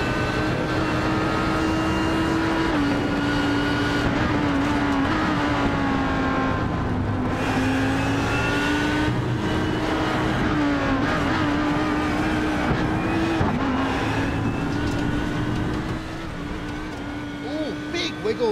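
A GT3 race car engine roars onboard through the run from Tower down to Le Mans corner at Sebring in a sim racing game, a loud, sustained high-pitched drone whose pitch rises and dips with gear changes and corners.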